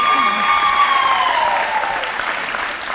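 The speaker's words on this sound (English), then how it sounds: "a very big round of applause for last but certainly not least." An audience at an employee recognition celebration breaks into loud, sustained applause for an honoree, the crowd's clapping running full and continuous with a few cheers or voices rising above it.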